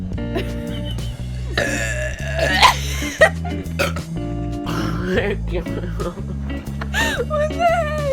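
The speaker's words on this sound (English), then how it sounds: "Daddy will bust burping." Burping contest: a run of loud, close, croaky burps and throaty grunts, several in quick succession, with bits of talk and laughter between them.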